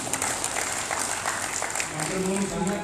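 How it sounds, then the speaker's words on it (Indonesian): A seminar audience in Klaten, Central Java, applauds a government director-general steadily throughout, a dense wash of clapping with voices mixed in beneath it. "Tepuk tangan untuk Pak Dirjen"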